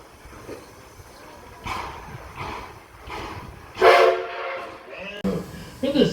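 A train whistle at Greenfield Village gives a loud, tonal blast near the middle, after softer rising bursts, over crowd murmur and the rumble of a moving ride.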